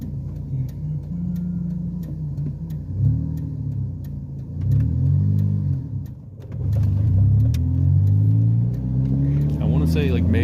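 A manual transmission car accelerates as a learner drives, the engine revving up in several rising pulls with dips between them as gears change, heard from inside the cabin with a voice talking now and then.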